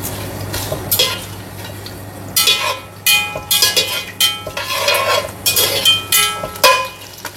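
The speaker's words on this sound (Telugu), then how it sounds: "ఇవి కొంచెం వేడెక్కి వేగాలి." Whole spices, including cinnamon, cloves, star anise and bay leaf, frying in a pan for soya chunk pulao: a spatula stirs and scrapes in quick repeated strokes over a light sizzle, close and fairly loud.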